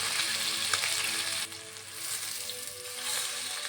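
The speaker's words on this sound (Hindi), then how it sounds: "तब तक हमारी फिश फ्राई हो रही है" Fish coated in masala sizzles in a frying pan, a close, continuous crackling hiss that briefly dips midway before picking back up, with no talk.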